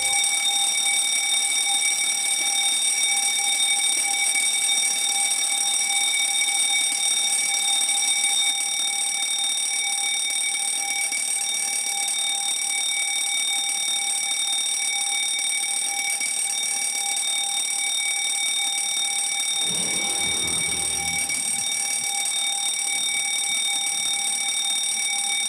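A fire alarm in a lab building rings continuously, a loud, steady electronic tone with sharp overtones that holds unbroken for the whole span, with a brief low rumble partway through.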